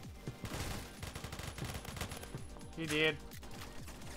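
Gunfire in the first-person shooter Phantom Forces, a rapid run of sharp shots crackling through most of the moment, with a player briefly speaking over it.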